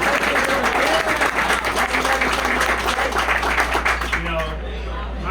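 A crowd claps loudly and continuously, the applause dense and even before easing off slightly at the end.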